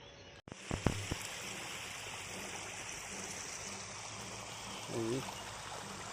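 Water gushing into a pond roars steadily like a stream or waterfall, with a few clunks near the start and a brief voice partway through.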